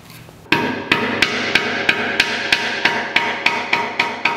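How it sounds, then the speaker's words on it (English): A big ball peen hammer pounds a lead fishing jig head flat on a hard surface, about a dozen sharp metallic strikes in steady rhythm, loud and close with no talking. "I'm just going to take a big old ball peen hammer and try to mash one flat"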